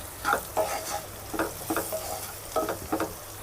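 Turmeric being stirred into hot oil in a pan for a spicy baby corn and mushroom masala, with repeated scraping strokes of a spoon in an uneven rhythm over a steady sizzle, close and fairly quiet, no voices.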